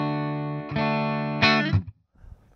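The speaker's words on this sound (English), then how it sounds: "Let me give you the clean D. This is clean variation 1." Clean electric guitar tone on a Boss Katana 50 MkII amp, clean variation 1 with neck pickup and no reverb, a few plucked notes and a chord ringing close, then cutting off to quiet string noise.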